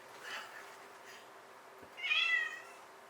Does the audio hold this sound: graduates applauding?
no